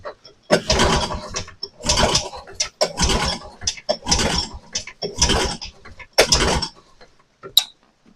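Repeated pull-starting of a vintage snowmobile engine after a carburetor reinstall and fresh fuel: about six rhythmic ratcheting rope pulls with mechanical clatter, each a second or so long, close and fairly loud, with no talk.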